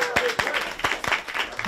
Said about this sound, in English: Round of applause for Blue Saint!